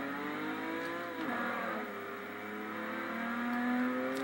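A 1995 Volkswagen Corrado VR6 accelerates in a passing run, its engine drone heard from inside the car and climbing steadily in pitch, with no talk over it.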